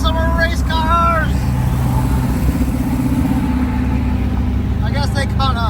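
Race cars driving in a convoy on a public road, a loud steady engine drone from inside a car, with talking over it.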